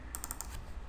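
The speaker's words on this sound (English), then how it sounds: "Typing" Keys on a computer keyboard clatter in a quick burst of four or five crisp, close taps, then stop, leaving a quiet room.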